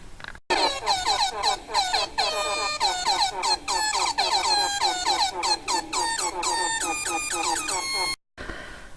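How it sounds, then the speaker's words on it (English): An air horn meme sound effect blares loudly and continuously for about eight seconds in repeated stuttering horn blasts, then cuts off abruptly with a brief silence at the end. "if I have a chance to make an air horn meme, chances are I will."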